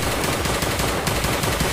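Sustained, rapid automatic gunfire from a video game's T-7 weapon, loud and dense, with shots blurring into a continuous roar throughout.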